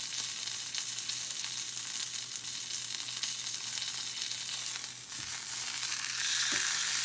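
A steak sears in a hot pan with a loud, continuous crackling sizzle that holds steady from start to finish, with no voices over it.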